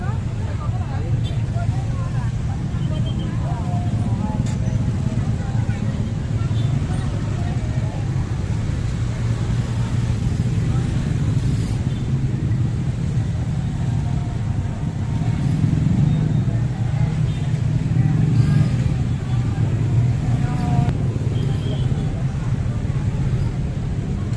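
Dense night traffic jam of cars and motorcycles crawling through a crowded Lebaran evening street in Kota Pariaman, a steady loud low engine rumble throughout with voices murmuring over it.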